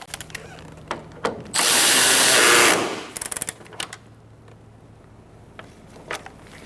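A power drill tightens a bolt on the front bumper of a 2014-2019 Kia Soul in one loud, steady whir lasting over a second, framed by light clicks and clanks of handling close by.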